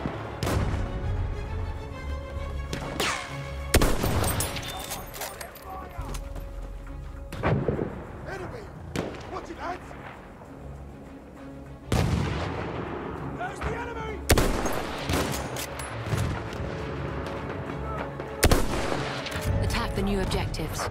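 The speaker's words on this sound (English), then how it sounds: "Wait for the enemy artillery barrage to stop firing." Battlefield 1 enemy artillery barrage in an online Rush match, repeated heavy booming shell impacts every few seconds over continuous rumbling battle noise and scattered gunfire, loud and dense throughout.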